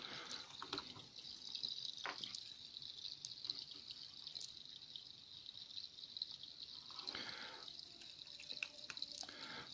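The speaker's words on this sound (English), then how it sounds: "So that is the Babbling Brook." Babbling brook setting on a cheap sound machine, a faint, steady trickle of flowing water with scattered drips and splashes, playing alone at low volume.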